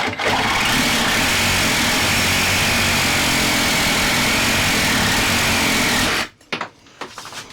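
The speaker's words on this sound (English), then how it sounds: "So I am going to, with a Sawzall, just cut these off level and see if that'll help us." Sawzall reciprocating saw cutting parts off level beneath a rooftop A/C grill on a 6x12 stealth camper, a loud steady buzzing rasp running continuously for about six seconds before stopping abruptly, followed by faint knocks.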